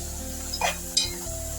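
Okra, tomato and onion sizzle in a pan for bendakaya pulusu, a steady close frying hiss broken by a couple of brief stirring scrapes and utensil clinks.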